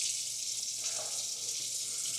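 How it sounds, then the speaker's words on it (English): Water runs steadily from a hotel room sink faucet, a close, continuous hiss with no voices over it. "Running water."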